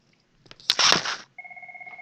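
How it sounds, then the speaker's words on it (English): A telephone rings with an incoming call from a school office, a short burst of rattling ring followed by steady repeated electronic tones, close and clear with no voices. "So I have a phone call from the office, um, school office."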